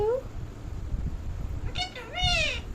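An Indian ringneck parrot imitates a cat's meow twice in close succession, the second call longer and rising, clear and fairly near, over a low background hum.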